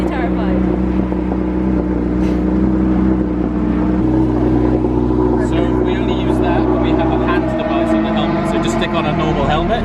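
A Porsche GT3 sports car engine drones loud and steady from inside the cabin, its tone shifting near the end, while people talk over it.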